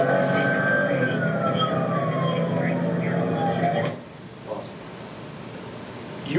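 A police emergency vehicle siren wails on bodycam footage while the unit responds with lights and sirens, a steady falling tone for about four seconds before cutting off, with road noise continuing beneath.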